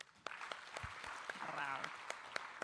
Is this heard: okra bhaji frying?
no